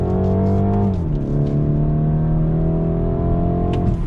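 A BMW with racing heritage accelerating hard in second gear on full throttle, engine note rising steadily in a loud, continuous drone heard close up, with no talking.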